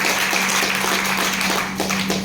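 An audience claps steadily for a speaker at a business meeting, a dense wash of many hands lasting a couple of seconds with a constant low hum beneath it.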